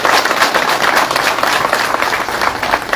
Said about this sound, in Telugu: మీ అందరి పక్షాన, నా పక్షాన మీ గట్టిగా చప్పట్లతో దయానంద్ రెడ్డి గారికి